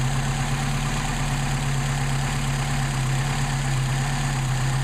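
A Mercedes 190SL engine with Solex carburetors idles close and loud, its steady low drone wavering unevenly as it stumbles, with no voices.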